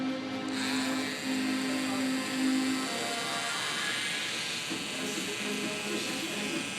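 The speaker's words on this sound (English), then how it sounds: "turn your trimmer where it's horizontal" An electric hair trimmer hums steadily while lining up a man's hairline, a close buzzing drone whose pitch shifts partway through as the blade meets the hair, with someone talking over it.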